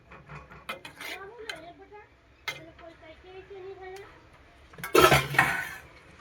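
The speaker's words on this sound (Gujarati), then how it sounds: "આ રીતની મેથી નાખીને મિક્સ કરી લેવાનું." A spoon stirs fenugreek seeds into a boiling pot of vegetable curry, knocking and scraping against the pot in scattered clinks. A louder clattering burst comes near the end, and a faint voice is heard.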